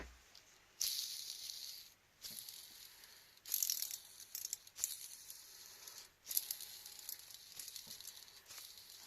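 A worn original wheel bearing from a Honda NH80 Vision scooter being spun, giving a faint, rough, gritty grinding rasp that comes in several bursts with quiet gaps between them.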